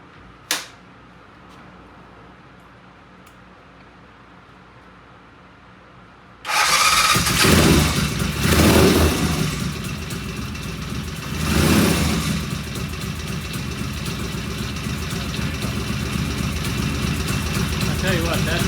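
Motorcycle engine starting for the first time, a faint click, quiet, then the engine cranks and catches and settles into a steady, loud idle with a couple of revving swells.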